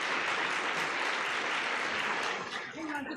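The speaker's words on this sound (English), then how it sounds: "Let's have a big round of applause" An audience at a student employee of the year ceremony breaks into a dense round of applause. The clapping is steady and full throughout, and a voice speaks briefly near the end.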